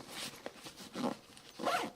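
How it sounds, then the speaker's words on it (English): A backpack pocket zipper on a Greenroom136 bag is pulled closed in several short, quick strokes, close and fairly quiet, with brief pauses between pulls and no talking. "Okay, so let me zip this back up."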